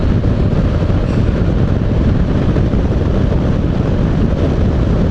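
Strong wind buffets the microphone during a motorcycle ride with a Honda NC750X DCT, a steady loud roar with no break.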